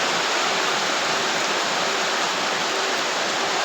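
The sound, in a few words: heavy rain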